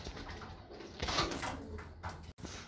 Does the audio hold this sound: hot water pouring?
no